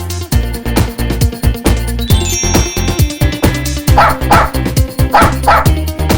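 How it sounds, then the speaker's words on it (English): Rhythmic, repeated dog barks over a bouncy, musical backing with bright chimes, loud and close like a cartoon or toy sound. "The dog goes, woof, woof."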